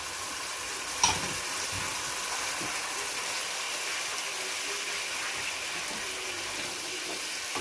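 Green chillies sizzle steadily as they fry in a cooking masala for chicken bread, with a continuous hissing crackle and one brief utensil clatter near the start.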